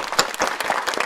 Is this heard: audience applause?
yes